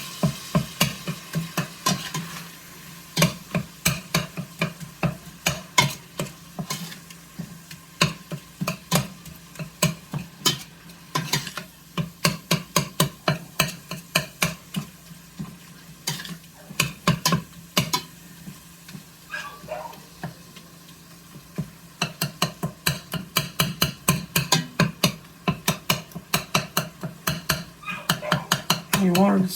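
Ground beef browns fast in a hot pan, sizzling steadily while a utensil scrapes and stirs in frequent clattering bursts against the metal; close and busy throughout, with a dog barking faintly at times.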